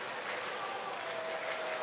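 A Saturday-night baseball crowd at a Padres–Cardinals game claps and cheers in a steady, dense wash of applause, with a commentator's voice over it.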